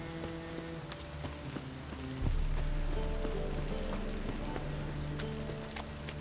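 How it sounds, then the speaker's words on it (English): Steady rain in The Witcher 3: The Wild Hunt patters on a surface with scattered individual drops ticking, while a low droning hum of background music continues underneath. "And it's raining again."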